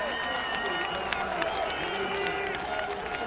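Crowd applause greets MotoGP winner Dani Pedrosa at the 2016 San Marino Grand Prix, led by the Honda boss. It is a dense, steady patter under continuous commentary talk.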